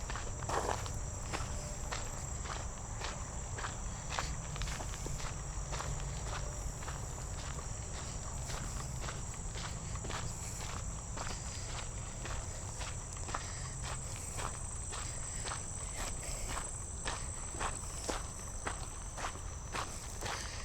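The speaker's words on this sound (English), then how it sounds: "There's a bunch of crickets out right now." Crickets chirp outdoors at night in a dense, steady, rhythmic pulsing chorus that runs unbroken throughout, with no talking over it.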